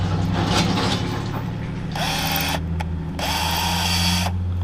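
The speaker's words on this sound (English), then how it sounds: "And I got my drill." A cordless power drill whirs in short bursts while working on a 1993 Chevrolet Silverado dash, with mechanical ratcheting clicks between runs, close and loud in a quiet garage.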